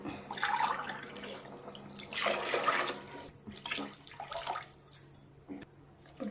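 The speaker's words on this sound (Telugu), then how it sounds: "నాలుగు పోసుకుంటే వాటర్ సరిపోతుంది" Water is poured into a pan of frying tomato rice masala, a splashing, gurgling pour in a few bursts, quiet and close.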